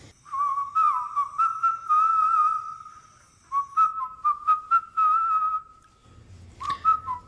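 A woman whistles a melody up close, clear sustained notes broken into phrases with brief pauses, then a final short burst.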